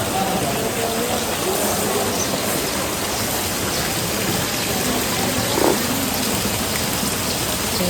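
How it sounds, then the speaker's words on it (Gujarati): A heavy downpour of rain falls over a home vegetable garden as a dense, steady hiss, continuous and even throughout with no voices. "વરસાદ ચાલુ થઈ ગયો ફૂલ ધોધમાર વરસાદ આવે"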